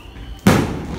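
A single sharp firework burst cracks out after a quiet lead-in, followed by a sustained crackling, rumbling tail.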